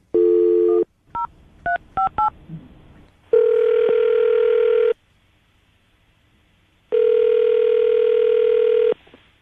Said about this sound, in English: We're about to call Danielle, see if we can get her on the phone